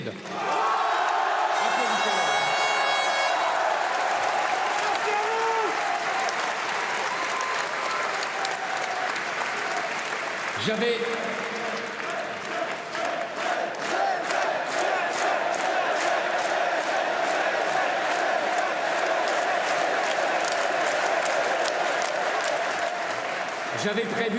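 Large political rally crowd at a campaign meeting in Villepinte applauding and cheering loudly and continuously, with dense clapping and shouts, rhythmic chant-like clapping building toward the end.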